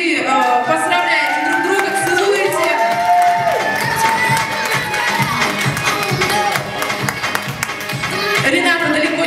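Wedding guests clap and cheer, with scattered shouts and whoops rising from a lively crowd, voices mixed in over the noise.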